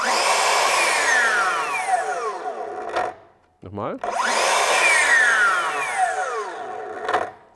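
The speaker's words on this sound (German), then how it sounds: "die Bremse, also die Motorbremse bei der Säge" Bosch cordless saw whirring loudly at full speed, winding down as the motor brake stops the blade, then restarting and braking again; brief speech in between.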